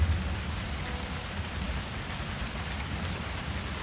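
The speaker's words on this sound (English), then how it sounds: "Oh, it's raining hard." Heavy rain in a video game pours down steadily, a dense, even hiss of drops drumming on surfaces with a low rumble beneath, continuous and loud throughout with no voices.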